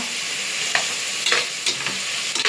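Tomatoes sautéing in a pan for mushroom biryani, a continuous crisp sizzle with short scraping stirs of a spoon, close and alone.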